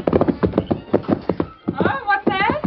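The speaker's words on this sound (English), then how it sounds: "The Lone Ranger urged his great horse on and on" A horse whinnies in a radio drama effect, a high wavering neigh following a voice, with the horse's sound coming clearly after the talking.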